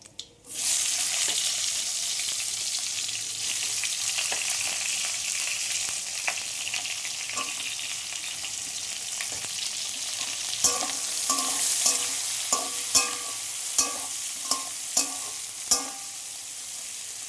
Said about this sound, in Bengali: তো আমি এবারে পেঁয়াজ দিয়ে দেবো।